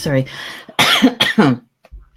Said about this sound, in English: got that pesky cough yet